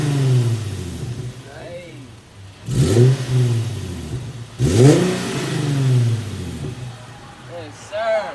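An Infiniti G37 with its muffler deleted revs loudly up close, with two sharp throttle blips rising over a deep, rumbling idle; a voice speaks over it.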